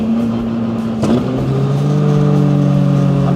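Mitsubishi Evo fitted with a bigger turbo pulling at 30 PSI of boost, its engine note dropping at a gear change and then climbing steadily and loudly again.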